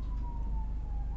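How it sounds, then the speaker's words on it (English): A fire truck or ambulance siren passes at a distance, heard as a faint, steady tone gliding slowly downward over a constant low rumble of background noise. "there's a fire truck or an ambulance or something going by, and so that may be pretty loud"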